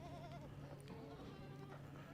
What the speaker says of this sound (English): This is Brennan's goat and it looks like it got missed.